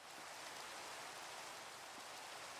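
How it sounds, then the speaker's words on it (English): Rain in the Minecraft video game falls as a steady, even hiss of drops, very faint and constant, with no voices over it. "I don't know why it is, but it definitely seems to rain more."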